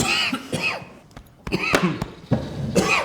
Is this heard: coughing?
yes